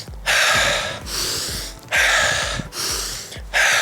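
Heavy, rhythmic breaths drawn in and pushed out during a run, four loud gasping cycles close to the microphone with brief pauses between them.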